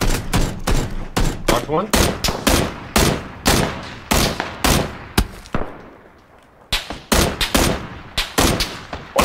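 Sharp, loud gunshots in a battle royale shooter, cracking out in rapid irregular volleys with a short lull in the middle before firing resumes, a voice briefly speaking between the shots.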